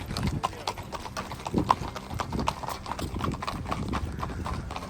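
Horses' hooves clip-clopping steadily on the Camino Francés pilgrimage trail in Spain, a busy run of close hoofbeats over outdoor ambience with faint voices in the background.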